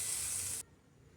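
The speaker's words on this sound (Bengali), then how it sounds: "পেঁয়াজ কুচিগুলিও ভেজে নিব।" Chopped onions fry in oil in a kadai, a faint, even hiss of sizzling that stops abruptly halfway through.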